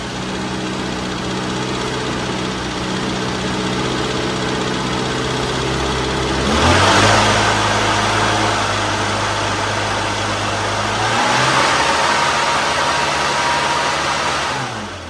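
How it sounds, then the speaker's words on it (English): A small Mini car engine, freshly tuned, idling steadily and then revving twice with rising and falling roars, close and loud with no talk. "You can see it's idling, no problem."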